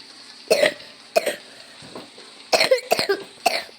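Several sharp coughs in short bursts, a pair, a single, then a rapid cluster of three, close and fairly loud over a quiet background.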